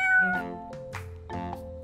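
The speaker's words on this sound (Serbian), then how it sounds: "crna mačka" A black cat meows twice in quick succession, each call short, clear and close, with a brief pause between them and no other sound around.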